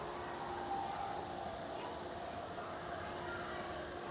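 The Disneyland monorail rolls past with a steady rumble and high wheel whine, heard from a moderate distance with a faint voice in the background.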